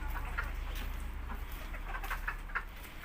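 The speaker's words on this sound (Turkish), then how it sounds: "Tavuklar dışarıdaymış anne içeriye koy diye" Soft clucking from a few chickens over a steady low background rumble, with short intermittent calls spread across the clip.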